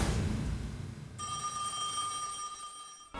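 A telephone bell rings once in a bright, sustained electronic trill that starts after a moment of background noise and cuts off near the end, fairly faint.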